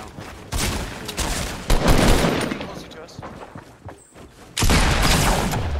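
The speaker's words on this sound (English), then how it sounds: "We're getting shot at everywhere." Gunfire in the video game Fortnite comes in dense, loud bursts of rapid shots, pausing briefly before another heavy volley, with players talking over it.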